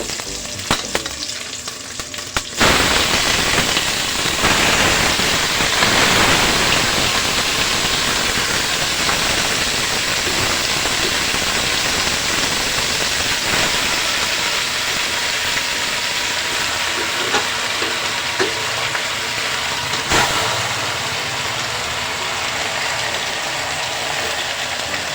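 Native chicken meat sizzles hard after being dropped into a hot pan for tinulang manok, a loud steady frying hiss with stirring clatter running throughout, no voices.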